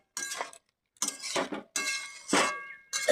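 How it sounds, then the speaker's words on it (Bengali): A lid being taken off a cooking pot while making mixed vegetable bhaji, a series of sharp metallic clinks and scrapes in four short bursts, close and clear, separated by brief silences. "ঢাকনাটা খুলে নেব।"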